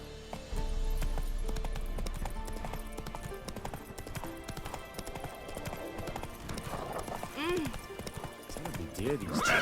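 Steady clip-clop of Geralt's horse Roach galloping across terrain in The Witcher 3 Wild Hunt next-gen on PS5, a continuous rhythmic hoofbeat with an occasional whinny, mixed with music and game sounds and some talk.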